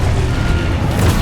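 A Confringo spell explosion in the Hogwarts Legacy video game, a loud, deep, rumbling boom that fills the whole moment, heard close with no talking.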